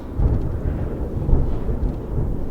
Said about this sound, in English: Thunder rolled across the now desolate battlefield.